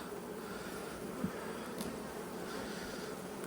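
Honeybees of a large hive colony hum in a low, steady drone during an open inspection, with faint scattered knocks from handling the frames and no talking.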